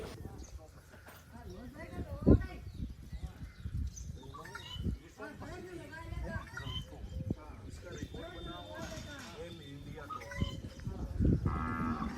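Native cows at a cow shelter moo repeatedly, several drawn-out calls rising over steady background bustle, with people talking nearby throughout.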